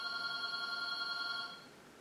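A telephone bell rings in a quiet room, a steady electronic trill that holds for about a second and a half before cutting off, fairly faint and alone.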